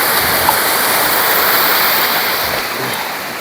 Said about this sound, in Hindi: ये पानी इन्होंने कुल लाई है और सीधा ये कुल आगे जाती है